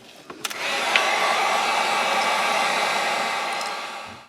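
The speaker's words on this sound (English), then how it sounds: "we're going to take the heat gun, we're going to dry this really good." A heat gun dries paint on a wrap with a steady, loud, close blowing whoosh that holds for about four seconds, then cuts off.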